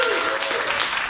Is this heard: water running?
no